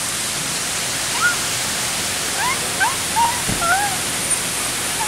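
Steady broadband rush of a natural spring-water waterfall fills the scene, with scattered bird chirps above it and a single short thump partway through.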